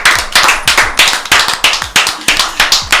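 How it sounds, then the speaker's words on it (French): An audience claps in a sharp, rhythmic unison beat at a French urban slam poetry show, loud and close, about nine strong claps in three seconds with no talk over it. "Applaudissez."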